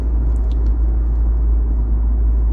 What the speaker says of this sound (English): Oh, truck's coming in.